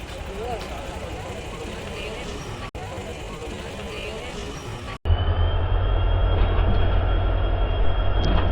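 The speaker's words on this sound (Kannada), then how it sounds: "ನಮ್ಮ ಟ್ರೈನ್ ದಾವಣಗೆರೆಯಿಂದ ಡಿಪಾರ್ಟ್ ಆಗತೈತಿ" A train hauled by a WDG4 diesel locomotive pulls out of Davangere station, a steady rumble with a strong low engine drone growing heavier after a brief break, with people talking over it.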